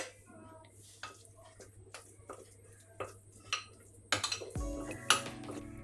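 Masala paste for a Kerala catla river fish fry is stirred and mixed with a spoon in a bowl, giving scattered clinks and scrapes that grow busier and louder toward the end, with no voices.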